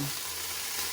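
Cabbage with carrots being stirred in a hot pan, a steady broadband sizzle with soft scraping through a single close second, no talking.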